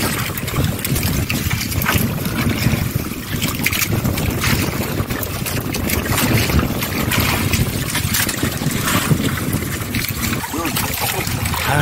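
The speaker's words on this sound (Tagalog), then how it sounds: "Makas pa man yung hangin, amihan." Strong northeast monsoon wind, the amihan, roars steadily around a boat at sea, a dense continuous rush with water sloshing beneath, loud and unbroken throughout.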